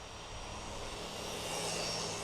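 An MJX Bronco R 1/8-scale RC desert racer car in high gear at full throttle gives a steady, loud, high-pitched motor whine that holds constant throughout with no pauses.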